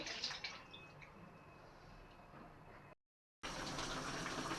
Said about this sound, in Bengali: হাত ধোয়া পানিটা দিয়ে দিচ্ছি